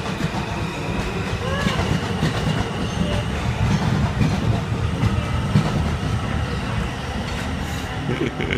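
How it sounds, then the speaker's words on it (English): Passing train with a loud, continuous rumble of railcars and wheel clatter rolling past close by for several seconds, with faint squeals and a hint of voices underneath. "Bye-bye, train."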